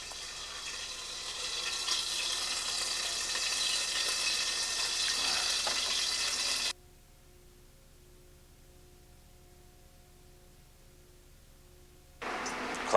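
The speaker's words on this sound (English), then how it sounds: "that sizzle is starting to get a little bit more intense" Food cooking with butter sizzles in a hot pan, a steady close hiss for several seconds that drops away abruptly into quiet with a faint low hum, then the sizzle bursts back in at the end.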